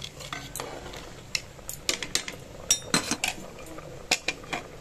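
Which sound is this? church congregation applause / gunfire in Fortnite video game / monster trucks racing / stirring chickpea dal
stirring chickpea dal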